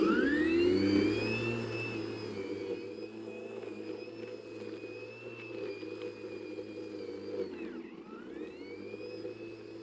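A light garden lawn mower with push-button start runs nearby with a steady whining motor hum; its pitch sags briefly near the end, then recovers. No voices.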